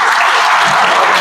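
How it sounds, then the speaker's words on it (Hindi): A group of people at a meditation session for beginners claps hands together in a dense, continuous burst of applause, loud and close, with no talking over it. "ताली बजाओ।"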